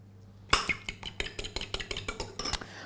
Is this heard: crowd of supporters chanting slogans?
no